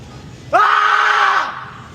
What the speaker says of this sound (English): All you gotta do is scream. As loud as I can. Loud as you can, bro.